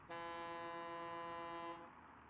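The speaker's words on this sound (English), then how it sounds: "Lots of honking." A vehicle horn in the video game Satisfactory gives one sustained, loud, clear honk lasting under two seconds, then cuts off into quiet background.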